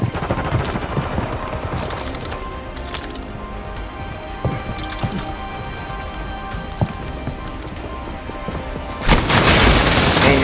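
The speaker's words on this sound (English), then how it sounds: "I think someone just tried shooting me right now" Rapid bursts of video game gunfire crackle through a busy, dense mix, with a sharp loud burst near the end; several shots and impacts sound close.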